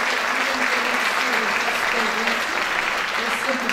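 An audience gives a big round of applause for the Ariosa ethnographic group at a tribute event, continuous dense clapping, loud and even throughout, with faint voices mixed underneath.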